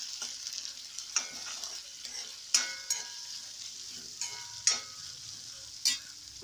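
Chopped onions fry in hot coconut oil with a soft, continuous sizzle, broken by sharp scrapes and clinks of stirring every second or so.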